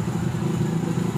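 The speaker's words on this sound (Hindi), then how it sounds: "फूफा बाइक चला रहे हैं" A motorcycle engine runs steadily at close range, a low mid-range drone with faint clatter and no talk over it, as the bike pulls away on a cold day.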